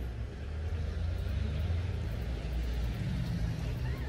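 A rental car pulling away, a continuous low rumbling engine and road noise held fairly steady and close, with no clear fade.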